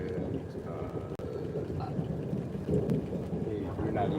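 Thunder rolling through a severe thunderstorm amid steady heavy rain, a continuous low rumble with brief cracks, moderately distant and alone.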